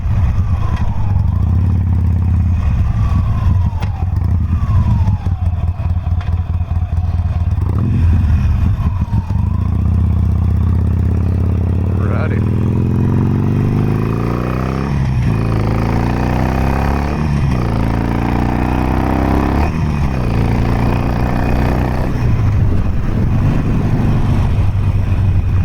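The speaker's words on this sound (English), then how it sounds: "Sportsters are good fun. You got to go ahead and rip through the gears right quick." A Harley-Davidson Sportster Forty-Eight motorcycle engine revving hard while being ridden, loud and close, climbing in pitch through repeated gear shifts with rising sweeps and brief dips between them.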